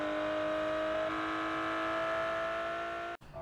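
A Gunner Galahad rear-drive race car from a video game holds a loud, steady engine drone with a strong whining tone, running close up, then cuts off abruptly near the end before picking up again.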